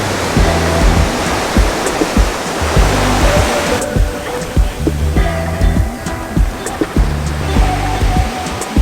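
Steady roar of sea waves breaking on the beach at Isla de la Piedra, Mazatlán, a continuous broadband wash with rhythmic low thumps of surf, loud and close.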